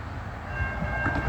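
The Ghan train passes the Park Terrace Salisbury Interchange railway crossing with a steady rumble of rolling wagons. A faint horn-like tone sounds above it in a brief moment with no talk.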